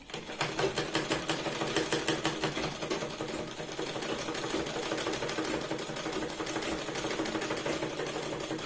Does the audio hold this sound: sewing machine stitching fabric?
yes